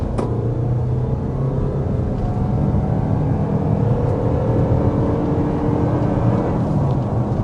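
A 2026 Toyota RAV4 hybrid with a 1.6-liter turbocharged four-cylinder accelerates to 60 mph, a steady loud engine and road rumble from inside the cabin with rising whir, no talking.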